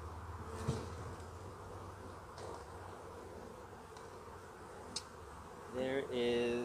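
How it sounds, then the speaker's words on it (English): Honeybees swarm around an open beehive during an inspection, producing a steady, soft buzzing drone throughout, with a brief louder tonal sound near the end. "There is a lot of bees up there."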